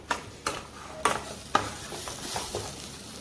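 A spoon stirs roasted gram flour into a spiced stuffing mixture for stuffed pointed gourd, giving a few sharp scrapes and taps against the bowl with soft rustling between them, close and moderately quiet, with no one speaking.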